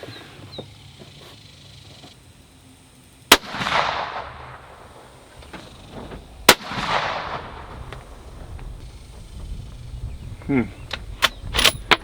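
Two sharp, loud rifle shots through an EC Tuner muzzle brake, each a crisp crack with a brief echoing tail, followed later by fainter clicks and handling noises, outdoors at a shooting range.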